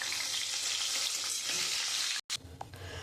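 Chicken pieces fry in hot oil in a wok with a dense, close sizzle. A sudden short gap breaks the hiss, then it resumes with a few stirring clinks.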